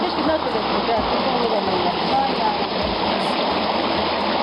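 Water rushing among rocks in a stream, a dense continuous splashing roar, loud and close, with voices talking faintly beneath it.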